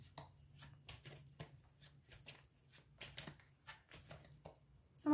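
Tarot cards are shuffled and drawn from the deck in a quiet close series of soft riffling, flicking card sounds with short pauses between them.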